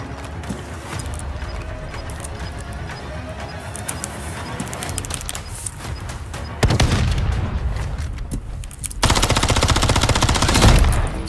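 Automatic weapons fire in a shooter video game, with busy, dense gunfire throughout that grows louder and more intense in sustained rapid bursts toward the end.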